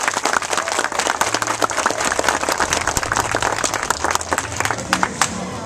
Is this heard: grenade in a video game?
no